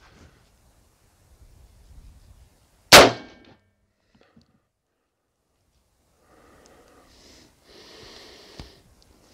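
A single sharp, loud gunshot from a rifle firing hand-reloaded test rounds at a shooting range, with faint handling noises and a little distant clatter afterward.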